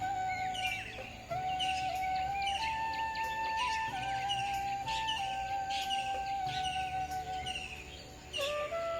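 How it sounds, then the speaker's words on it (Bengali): Several birds chirp and call repeatedly at dawn in a foggy village, with sustained whistled tones and quick tweets overlapping against a soft background hum. "সবচেয়ে ভালো লাগে সেটা হচ্ছে পাখির ডাক।"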